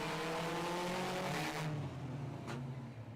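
Side-by-side race vehicles rev loudly together at the start of a race in a steady, rough drone, the pitch dipping and surging without any voices.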